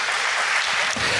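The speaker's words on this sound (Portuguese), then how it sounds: "Vamos aplaudir Jesus bem forte." A church congregation breaks into loud, dense applause that fills the room as a steady, sustained wash of clapping with no pauses.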